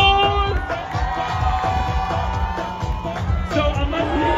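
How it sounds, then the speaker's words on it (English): At the BMW MFest car event, a crowd cheers and claps with lively shouts and babble, sustained and close for the whole stretch. "Give him a round of applause."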